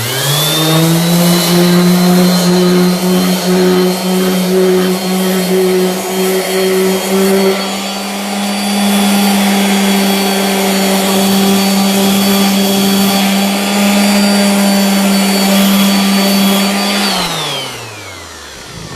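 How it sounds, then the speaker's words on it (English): A power sander running on wood with fine grit sandpaper, a loud steady motor whine that holds for most of the time, dips briefly, then winds down at the end. "So then I will go over this with my fine grit sandpaper."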